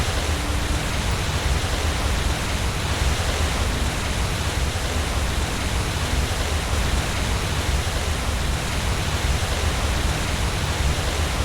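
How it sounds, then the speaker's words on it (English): Loud rushing water in the video game Skyrim mod Enderal, a dense constant roar like a waterfall or torrent that fills the space steadily and unchanging throughout, with no speech. "Oh, the water's so loud."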